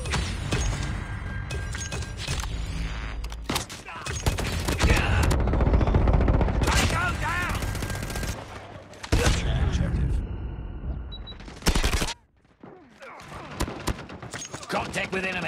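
A sentry gun fires in a first-person shooter video game match on a Shipment hardpoint map: dense, rapid automatic gunfire runs almost continuously at close range, mixed with other battle sounds and brief gaps.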